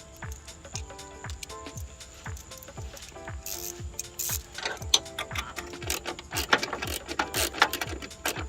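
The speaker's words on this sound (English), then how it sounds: "we take our 7mm nut, attach it to our 1/4 inch ratchet" A 1/4 inch ratchet with an extension turns a 7mm nut on the side marker of an F-150 headlight, giving a close, steady run of clicking pawl ticks, joined later by some handling clatter.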